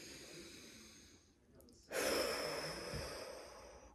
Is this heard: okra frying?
no